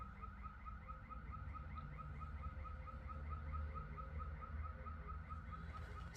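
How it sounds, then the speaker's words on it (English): A neighbour's car alarm sounds in the background, pulsing in a fast, regular repeating pattern that stays faint and distant throughout over low household ambience. "Oh, there goes my neighbor's alarm again."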